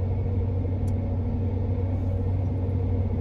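Steady low engine rumble and road noise from inside a lifted Honda Ridgeline pickup cruising on a highway during a long road trip, continuous and even throughout with no talking.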